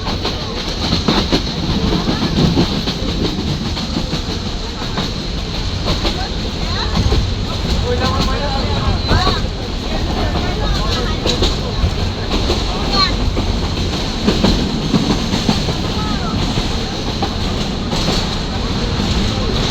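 Passenger train rolling along rails in Dhaka, heard from on board as a steady rumbling drone with rhythmic clicks and rattles throughout, no talk.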